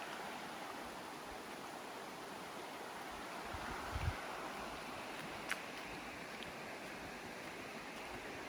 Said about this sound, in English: Oh, that must be a creek, and there's the river there.